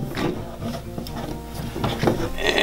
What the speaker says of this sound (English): to set up the tripod, just pull the legs out, loosen the knob right here,